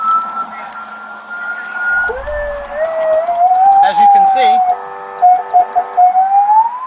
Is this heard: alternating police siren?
yes